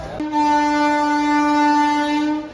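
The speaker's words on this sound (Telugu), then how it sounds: "Vande Bharat, orange colour Vande Bharat" An orange Vande Bharat train passing at Nidadavolu junction, sounding a loud, sustained horn blast that holds steady for over two seconds with faint rail rumble beneath.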